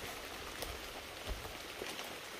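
Rain falls steadily outdoors at night, a faint, even patter with a few scattered drops hitting a surface.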